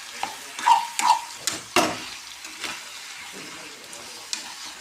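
Tomatoes being sautéed for chutney, stirred in a pan after urad dal and four dried red chilies, make soft sizzling under several distinct scraping and clinking stirs of a spatula, close by with no voice.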